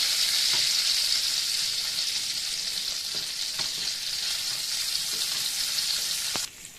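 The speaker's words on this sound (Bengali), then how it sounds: "আমি হালকা জাস্ট টস করে নিয়েছি তেলে" Prawns, already fried, tossed again in hot oil in a home kitchen, a steady loud close sizzle running throughout with a few faint utensil clicks, no talk.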